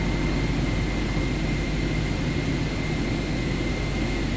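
A simulated airliner rolls for takeoff in Microsoft Flight Simulator 2024, its engines giving a steady, loud broadband roar with a faint whine, unchanging and alone throughout.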